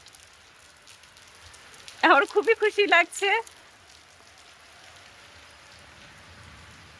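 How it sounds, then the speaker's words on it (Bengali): Steady rain falls on an outdoor surface as a soft, even hiss, with someone speaking briefly in the middle while the rain continues. "এই বৃষ্টি বাড়ছে এই বৃষ্টি কমতেছে"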